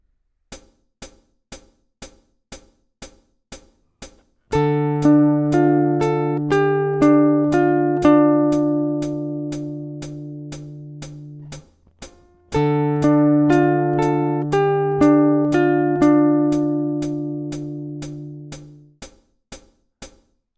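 A plucked guitar picks out a slow melody from a song twice over a steady metronome click, the notes ringing and decaying, with no voices.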